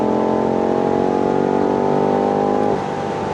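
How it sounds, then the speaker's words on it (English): BMW M5 F90 with a twin-turbo V8, running steadily loud and close with a sustained engine drone that holds, then drops in pitch near the end as revs ease off. "This 8-cylinder V8 twin-turbo engine is a masterpiece."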